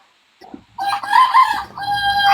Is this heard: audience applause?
no